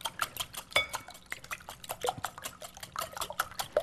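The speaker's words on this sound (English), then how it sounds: "I have in this bowl 6 eggs that I want to beat, break the yolks, and then just whisk them till they're light and fluffy" Six eggs are beaten in a bowl with a whisk, giving rapid rhythmic clinking and tapping against the bowl with wet sloshing, close and steady, with no talking.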